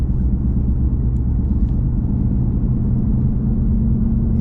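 A 2019 Ford Mustang GT V8 heard from the driver's seat, a deep continuous engine rumble with steady low throb, loud and close throughout with no talk.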